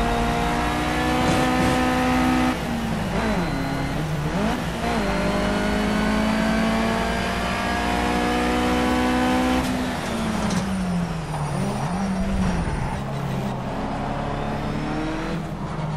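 A Mitsubishi Lancer Evolution race car in Project CARS, driven at Spa, revs hard and continuously with its engine note climbing through the gears, dipping at each shift and braking, then winding up again, loud and constant throughout.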